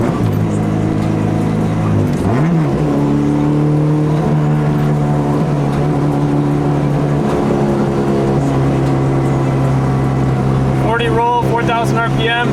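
A Honda EK hatchback with a JDM H22A engine and full bolt-ons pulls hard through the gears, its loud engine note climbing steadily, dipping at a shift and rising again, with a voice talking over it.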